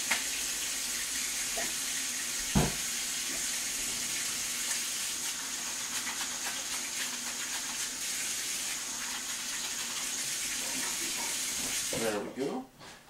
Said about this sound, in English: Wash my hands off from all the raw meat.